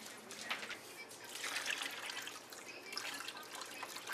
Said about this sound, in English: What I'm going to do here is add just a little more water.